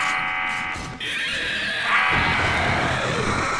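Zombies screaming during a Blood Moon horde in the survival game 7 Days to Die: shrill, raspy cries that swell and shift over several seconds, loud and close over a dense game din.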